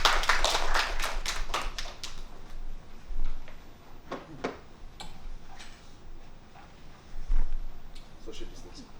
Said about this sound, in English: let's give a round of applause to our two speakers today.